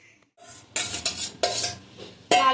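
Potatoes for aloo dum tipped into a cooking pot, giving a few bursts of clattering, scraping metal and tumbling pieces separated by short pauses, close and fairly loud with no talk.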